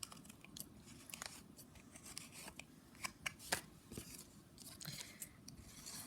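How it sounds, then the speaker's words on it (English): Scissors trimming paper while making pocket letters, a series of crisp, close snips at an irregular pace, faint and quiet with no talk. "I'm just going to trim that off"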